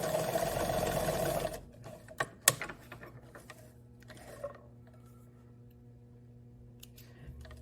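A sewing machine stitches the bottom hem of a wide-leg pant in a steady, fairly loud mechanical run for a little under two seconds. It stops and gives way to faint clicks and handling noises.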